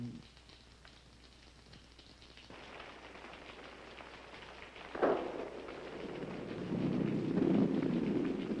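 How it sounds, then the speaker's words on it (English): Rain patters steadily on a surface, growing heavier and louder toward the end, with a brief sharp bump midway. "It's raining."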